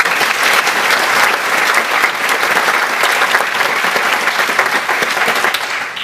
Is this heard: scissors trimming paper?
no